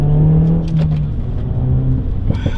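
Engine of a 2019 Renault Megane RS Trophy hot hatch driven hard through a hairpin corner, a steady loud in-car drone with a sustained tone that shifts pitch briefly near the end, with no voices.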